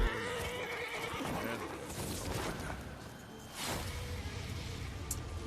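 A horse in the fantasy game The Witcher 3 whinnies, with faint hoof clip-clops and game ambience, moderately loud against a busy background with no talk.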